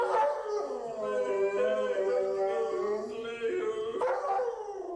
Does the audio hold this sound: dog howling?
yes